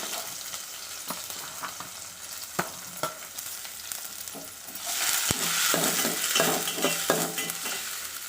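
Onions and a green chili sautéing in a pan for egg gravy, a spoon clicking and scraping at intervals, then the sizzle swelling louder near the end.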